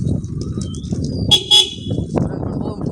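A bus horn honks in a couple of short bursts around the middle, with people talking and road noise underneath.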